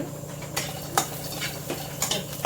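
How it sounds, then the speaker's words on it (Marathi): Roasted peanuts are stirred into sautéed onion in a pan, with a spoon clinking and scraping against the metal in irregular strokes over a steady soft sizzle. "आता आपण त्याच्यात थोडेसे शेंगादाणे टाकू, तुमच्या आवडीप्रमाणे टाका थोडे।"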